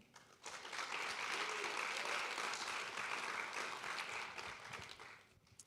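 Sustained applause from a panel audience at a Purdue Rising Professionals event greets a speaker, rising quickly, holding steady for several seconds, then tapering off.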